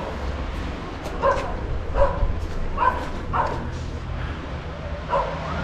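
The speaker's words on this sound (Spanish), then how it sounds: "Vean los perros." Several dogs bark and yip repeatedly at a moderate distance around an abandoned hotel, in irregular bursts over a steady background hiss, with no talking.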